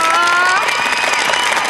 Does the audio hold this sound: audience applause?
yes